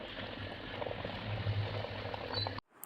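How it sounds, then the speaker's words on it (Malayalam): Kerala-style fish curry bubbles and thickens in a pot on a gas stove, a steady close simmering hiss and gurgle that stops abruptly near the end. "ഇതിപ്പോൾ നല്ല രീതിയിൽ തിളച്ച് കുറുകി വന്നിട്ടുണ്ട്."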